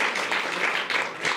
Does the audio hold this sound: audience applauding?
yes